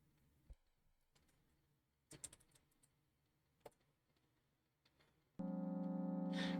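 Soft, sparse keystrokes as a name is typed in the video game Milk Inside a Bag of Milk Outside a Bag of Milk, a few isolated clicks in near silence before a steady tonal hum starts.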